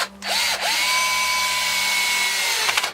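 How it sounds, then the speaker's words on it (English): A screwdriver drill drives a screw tight into wood while building a mini wine cellar: one sustained, close, loud whirring run of the motor for nearly three seconds, with brief clicks at start and end. "now I just want to put a screwdriver on it and drill that up tight"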